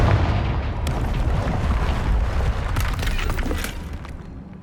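A Confringo blasting spell exploding in the video game Hogwarts Legacy: a dense, loud rumbling blast with heavy low end that sustains and then gradually fades, with a few crackling pops near the end.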